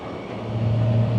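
A BMW K1600 GTL motorcycle engine revs up as the throttle is twisted, a steady close rumble that swells slightly over a second, with no talk.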